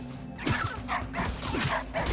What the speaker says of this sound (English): Listen, bush dog.